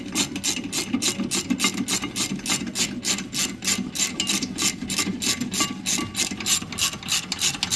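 A hand ratchet clicks in quick, even bursts while tightening rear brake bolts on a Hyundai Santa Fe, close and crisp, a rhythmic series of pawl clicks with no talking.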